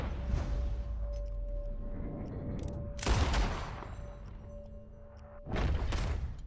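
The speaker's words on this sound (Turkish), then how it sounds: "Aa, çocuğu vurduk." Gunfire in the Western video game Red Dead Redemption 2, with a loud burst of shots opening, another heavy volley a few seconds later and a third near the end, over a steady game background hum.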